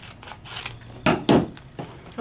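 Scissors cut through paper card with a few crisp snipping strokes, close and moderately loud, the last two cuts strongest, during paper crafting with peel-off stickers and dies.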